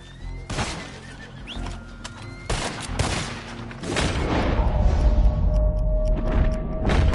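Gunfire volleys in a horseback shooting video game: sharp shots around the half-second, two-and-a-half and three-second marks, then a dense, loud sustained barrage with no talking.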